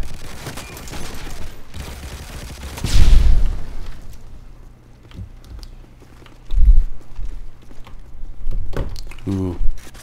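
Gunfire in the online shooter Call of Duty Online, with an AK-47 or AK-117 rifle, comes as bursts and heavy booms amid game noise, while a player talks over parts of it.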